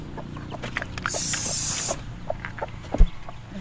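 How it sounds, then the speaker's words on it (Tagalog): A chicken clucks in short, scattered bursts close by, with a loud high hiss for about a second and a sharp knock near the end. "Ito yung manok."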